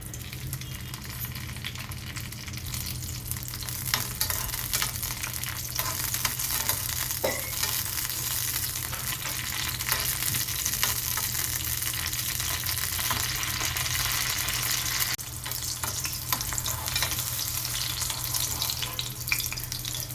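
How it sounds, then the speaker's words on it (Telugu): Green chillies fry in hot oil in a pan, giving a continuous dense sizzle and crackle that holds steady and loud for the whole stretch, with a few scattered pops. "ఆయిల్ వేడైన తర్వాత పచ్చిమిరపకాయలు ఫ్రై చేసుకోవాలి"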